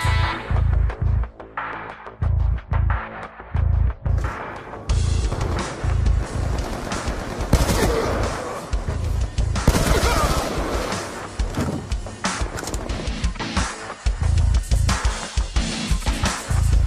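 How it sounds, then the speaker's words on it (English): Rapid bursts of SMR semi-automatic rifle fire in the video game Black Ops 2, loud and close, with booming low thumps and dense clattering shots across the stretch, occasionally pausing before firing again. "now he has the SMR. So that is actually a semi-automatic rifle"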